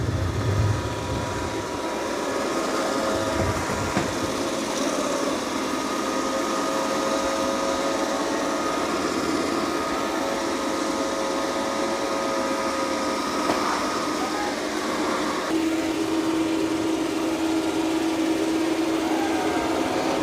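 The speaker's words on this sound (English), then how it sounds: "it's mopping and vacuuming at the same time" A Dreame L40 Ultra robot vacuum mops and vacuums at once, giving off a steady, loud motor whir and brush hum that holds level throughout, with a faint tonal whine coming in near the end.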